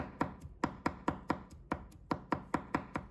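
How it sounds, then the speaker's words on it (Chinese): A knife chops garlic slices on a cutting board in a brisk, steady rhythm of about fourteen crisp, close knocks, each struck cleanly with no voices. "先把它切成片， 再改刀切成末切碎的"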